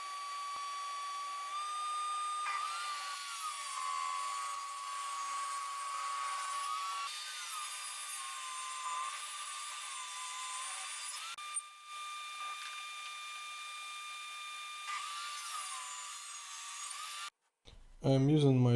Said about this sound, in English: I have to use my table saw again for final trimming.